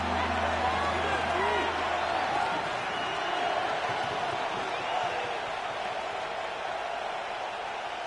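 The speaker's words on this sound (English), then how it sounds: "This crowd into it now as we get to third down." A stadium crowd at a football game roars steadily as third down approaches, a dense, continuous wash of cheering and noise that holds for the full span, with a low commentator voice briefly audible early on.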